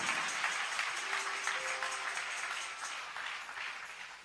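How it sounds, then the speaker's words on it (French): A church congregation applauds, a dense, continuous wash of clapping that slowly fades over a few seconds. A faint voice is heard briefly underneath. "Somebody put your hands together for the Lord."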